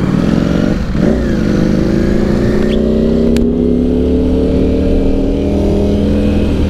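A Ducati superbike engine revs loud and close, a harsh, blaring roar climbing steadily in pitch and holding at full volume throughout, with no talk.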